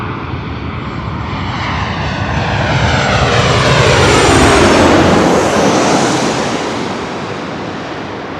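Airliner passing at LAX airport, a loud roaring jet engine swelling to a peak and then fading, with a sweeping whoosh as it goes by close.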